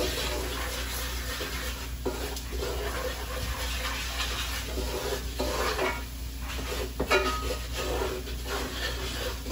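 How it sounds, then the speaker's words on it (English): Garlic and jalapeno stirred in a pan on the stove: a steady, close sizzle with scraping and clinking from the utensil moving through the pan. "Put my garlic in and my jalapeno in. Give that a little stir."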